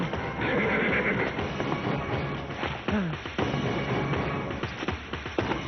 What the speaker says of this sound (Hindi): मैंने पहले से ही घोड़े तैयार रखे हैं